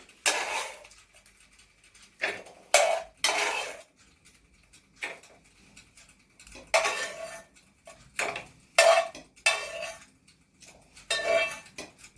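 Repeated clinks and scrapes of a spoon against a metal blender container as apples are spooned in, in irregular bursts, with quiet pauses between each scoop.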